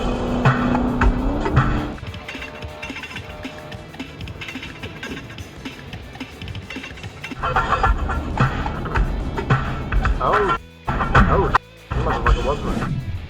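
A speeding car fleeing police roars at high speed, revving and whining under a voice, with the engine note surging and briefly cutting out.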